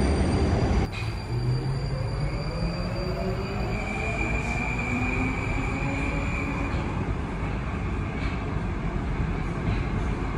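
A metro train rumbles steadily close by, with a constant low roar and faint rising whine from the wheels throughout.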